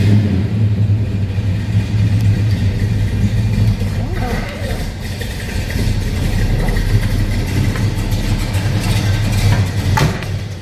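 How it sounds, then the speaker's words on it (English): Low, steady idle of a 1965 Pontiac GTO muscle car engine with a deep, continuous rumble, heard close with someone talking over it. "It's got a nice low idle to it. It just sounds great."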